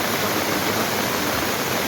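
A river swollen by heavy monsoon rain in Kotdwar Bhabar rushes past in a loud, steady, broadband roar of floodwater, continuous and close with no voices.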